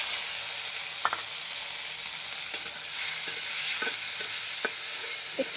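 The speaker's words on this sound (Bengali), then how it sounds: "একটু হালকা ভেজে নেব চিংড়ি মাছটা।" Shrimp rubbed with turmeric and salt frying in oil in a wok, a constant crackling sizzle broken by scattered spatula scrapes and taps.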